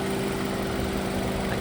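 A Lexus NX 250 four-cylinder engine idles with a steady, even low hum and faint tonal drone, heard close and alone without any talking.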